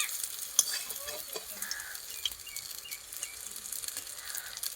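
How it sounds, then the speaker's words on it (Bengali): Chickpea and green banana fritters fry in hot oil in a village kitchen, giving a soft, steady sizzle and crackle close by, with light stirring and scraping noises and no talk. "বড়াগুলো দুই ধারই আমি উল্টে পাল্টে ভেজে নিয়েছি।"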